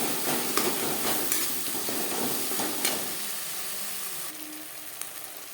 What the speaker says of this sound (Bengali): মশলার সাথে টমেটো বেশ ভালো করে মিক্স করে দেবো